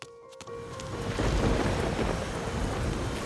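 Heavy rain and rolling thunder as a storm effect in a Taiwanese-language folk tale; after a quiet start, a deep rumble swells and lingers under a dense rain hiss, with no voices.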